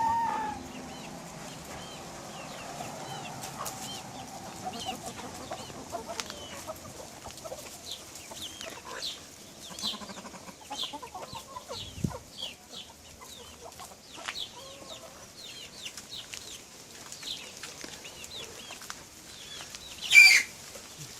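Light Sussex hens and other chickens cluck softly at a farm, a scattered run of short calls over quiet background, with one louder squawk near the end.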